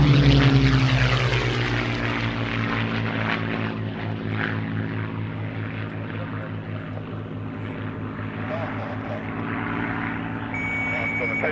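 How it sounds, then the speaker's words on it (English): A Gloster Gladiator biplane comes in to land at an airfield, its propeller engine droning steadily and fairly close, with a broad roar and a gradual slight fade as it passes. "As the Gladiator comes in, you can see the lowered flaps on both the lower and the upper wings there."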